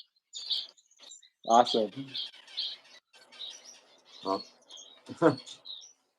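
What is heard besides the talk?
Gouldian and zebra finches chirping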